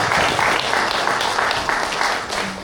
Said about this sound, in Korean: 우리 큰 박수 한번 부탁드리겠습니다